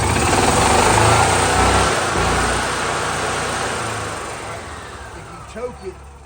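A gas EFI EZGO golf cart engine running up close, a loud steady mechanical drone that gradually fades and thins, with a couple of short bumps near the end.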